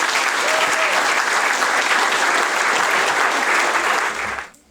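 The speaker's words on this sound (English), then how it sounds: "can we have a round of applause?" Sustained audience applause at a distinguished alumni awards ceremony, a dense steady wash of many hands clapping that carries evenly for over four seconds, then fades away quickly at the end.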